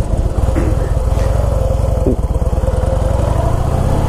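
A Harley-Davidson Heritage Softail runs close by with a loud, steady low throbbing engine beat that holds throughout without a break.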